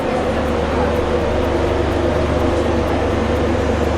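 Interior of a moving passenger train in India, a loud steady rumble of wheels and carriage noise with faint periodic clicks, continuous throughout.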